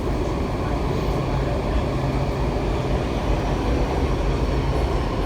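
Washington Metro Kawasaki railcars on the way to Mt Vernon Square, a steady, loud rumble and roar of wheels on rail heard from inside the moving train, continuous with no pauses.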